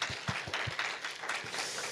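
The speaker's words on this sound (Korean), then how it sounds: "찬양팀한테도 한번 박수 해주세요" A church congregation claps for the worship team during a Sunday sermon, with a steady wash of applause and a few heavier hand thumps near the start, loud and close, with no talking over it.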